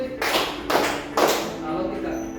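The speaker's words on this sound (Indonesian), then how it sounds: "Kita bermain tepuk" Three distinct hand claps spaced about half a second apart in a classroom clapping game, each a sharp close burst fading quickly, with a teacher's voice around them.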